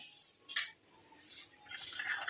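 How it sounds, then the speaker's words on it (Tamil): A spoon stirs a coconut oil mixture in a small bowl, giving a few faint clinks and soft scrapes against the rim, quiet and close. "நல்லா கலந்து விட்டுக்கலாம்"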